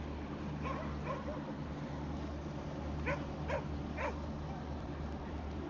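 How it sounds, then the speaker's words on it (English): Several dogs bark and yip in short bursts at a distance, under a steady low engine drone on a boat out on the Clarence River. "Dogs losing their minds again."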